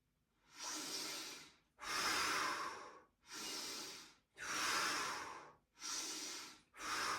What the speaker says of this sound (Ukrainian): Ще раз видих.